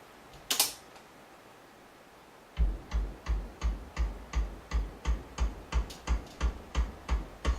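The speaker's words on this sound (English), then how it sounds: "So I'll play for you the regular bass drum track." A regular bass drum track plays a steady series of punchy, evenly spaced thumps at a moderate tempo after a brief earlier click and a pause, with each hit decaying quickly and nothing else sounding alongside.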